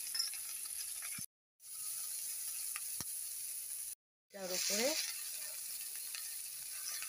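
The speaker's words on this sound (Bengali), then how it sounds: "পেঁয়াজ লঙ্কা ফোড়ন দিয়ে ভাজা হবে।" Onion and green chili sizzle in hot oil in a wok, a steady bright crackle of frying with stirring scrapes. The sizzle breaks off twice and returns louder, and a voice speaks briefly over it.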